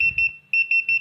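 A counterfeit money detector machine gives off a loud, steady electronic alarm, repeating in beeps that pause briefly and then resume, with faint low handling noise at first.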